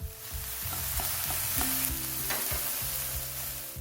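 Oyster mushrooms and onion stir-fried in a hot pan, a loud steady sizzle under repeated scraping strokes of a spatula and a low hum, no voices.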